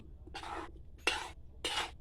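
Three close, scraping strokes of stirring chicken curry with cucumber in a large wok, each about half a second, separated by short pauses.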